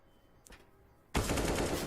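Gunfire in CS:GO at an ESL Pro League match, AK rifle fire: a brief faint shot, then a loud sustained burst of rapid automatic fire close up.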